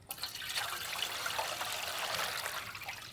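Water pours steadily into a pot while dried fish and brinjal thokku is being cooked, a continuous splashing trickle lasting about three seconds, soft and close with no talking.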